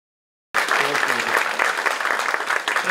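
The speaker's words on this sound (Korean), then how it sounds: "그럼 박수로 화답 한번 해주세요" After a moment of silence, an audience at a Gyeongbuk education community talk session bursts into steady, dense applause that continues evenly to the end.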